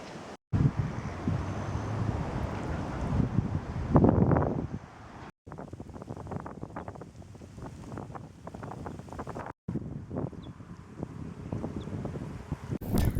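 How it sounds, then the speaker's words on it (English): Strong wind buffets the microphone in heavy, roaring gusts, with a few brief dropouts between stretches of blustery noise. "it's quite windy down here"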